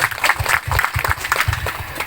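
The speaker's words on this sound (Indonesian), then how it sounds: "tepuk tangan dulu untuk Provinsi Riau." Outdoor applause for Riau Province at a modern farm machinery demonstration in Pekanbaru, a loud, dense crowd clapping in uneven bursts across the whole stretch.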